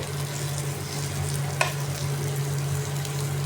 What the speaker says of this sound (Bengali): সেঁকে নেব, যেটা শ্যালো ফ্রাই বলে, ওইভাবে করে নেব